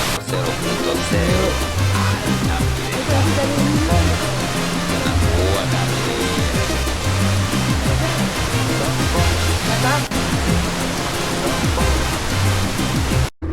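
A roadside waterfall in Bali roars steadily and loudly, a dense unbroken rush of falling water close by, with no voices over it.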